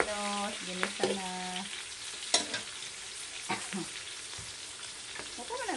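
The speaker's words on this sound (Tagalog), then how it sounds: "Ginisa na." Ingredients sauté in a pan at home, a soft sizzle under scattered spatula scrapes and clinks, with faint background voices and a brief sung tone at the start.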